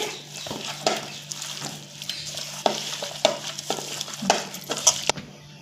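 Chicken dum biryani ingredients being mixed in a pot, with repeated close scraping and stirring strokes over a low sizzle, irregular in rhythm and fairly loud throughout.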